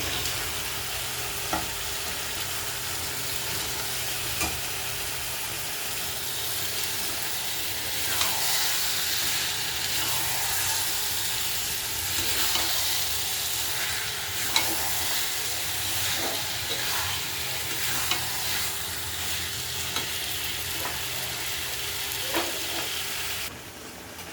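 Meat frying in a hot pan gives a continuous, fairly loud sizzle and hiss, while the pieces are stirred and occasional scrapes and clicks of a utensil against the pan cut through.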